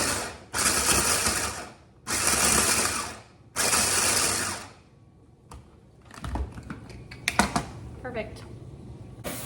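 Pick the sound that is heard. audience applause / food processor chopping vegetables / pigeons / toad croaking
food processor chopping vegetables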